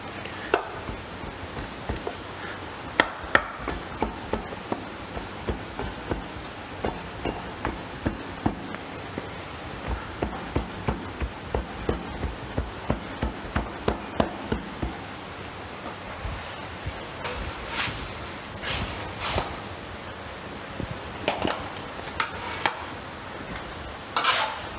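A bench rammer packs heap sand into a metal-casting mold with a steady run of dull, close thuds, repeated blow after blow for the whole stretch with no voices.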